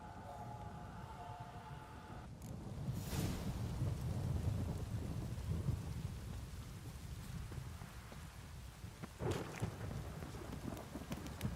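Heavy rain pours steadily in The Witcher 3 video game, with deep rolling thunder swelling in the middle and a few sharper crackles later, heard alone without talk.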